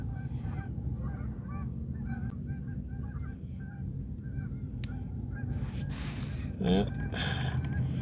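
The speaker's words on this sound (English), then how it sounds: "it's just geese" Geese honking in short repeated bursts at a distance, over steady background rumble, with a brief spoken word.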